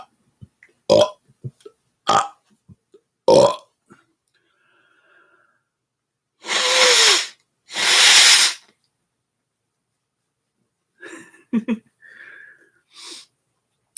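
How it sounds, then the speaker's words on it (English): Two long, loud burps from a person follow one another in the middle, with short sharp vocal bursts before them and quieter throaty noises toward the end. No one speaks. "so it was just a big burp"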